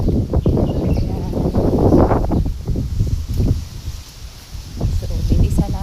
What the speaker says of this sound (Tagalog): humahangin na, talagang lakas ng hangin